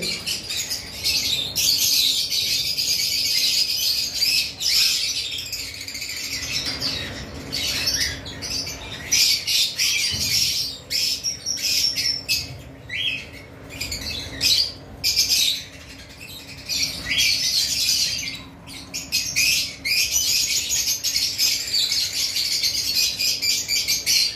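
Big-size cockatiels of a Holland bloodline squawk and chirp repeatedly, a loud, busy flurry of harsh calls close by with no voices.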